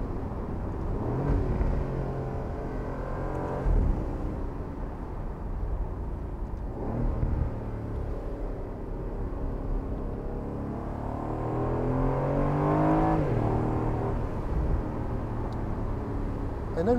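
Aston Martin Vantage F1 Edition safety car engine drones steadily from inside the cabin, rising in a revving surge near the end, with some low rumble throughout.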